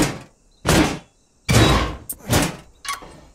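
In the Dysmantle game, a door produces several loud, abrupt thuds and bangs in uneven bursts separated by near silence, one hit echoing into a smaller knock.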